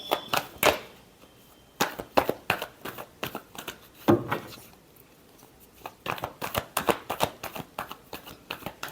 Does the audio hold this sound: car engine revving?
no